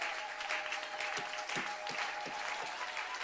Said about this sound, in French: Donnons une acclamation au Seigneur.